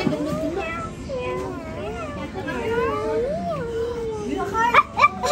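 Cat meowing with drawn-out, wavering cries and a few sharp calls near the end, close and fairly loud, with people chatting faintly around it.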